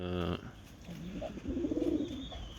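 Pigeons coo softly on a rooftop terrace, a few low rolling calls close by over light ambient noise, after a brief musical tone at the start.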